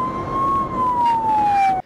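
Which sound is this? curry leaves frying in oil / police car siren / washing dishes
police car siren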